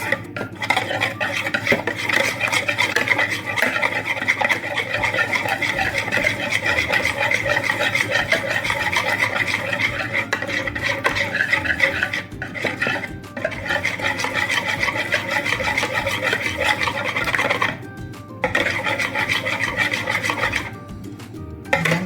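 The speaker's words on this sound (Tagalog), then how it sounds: "Meron tayo ditong 7 pieces na egg yolk. I-mix lang natin." Seven egg yolks are mixed vigorously in a bowl, a dense, continuous rasping whisk-and-scrape rhythm, loud and close, pausing briefly a few times, with no talking.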